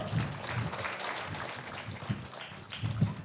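A church congregation applauding during worship, a sustained wash of clapping heard at a moderate distance with a few louder hand claps standing out.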